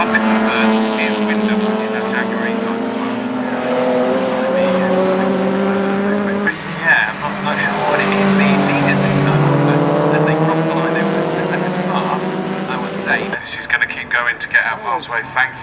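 Classic race cars, including a TVR Griffith and a Jaguar E-Type, roaring around Oulton Park circuit in a CSCC race, loud engines revving and shifting gears as they pass close, with a commentator talking over them throughout.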